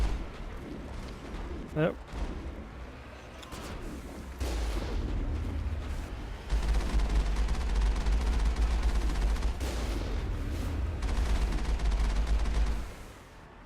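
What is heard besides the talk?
gunfire shooting space pirates in the video game Mass Effect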